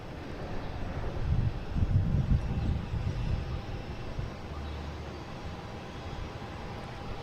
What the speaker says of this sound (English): we got a JetBlue coming in from Raleigh